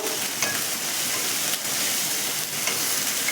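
Ginger-garlic paste fries in a pan for keema curry, a close, steady hissing sizzle with faint scraping from stirring, no voices over it.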